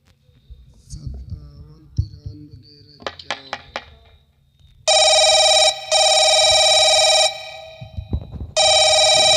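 A telephone rings after a mobile number is dialed: steady, loud electronic ring tones come in long repeating bursts, preceded by faint background voices and clicks of dialing on the handset.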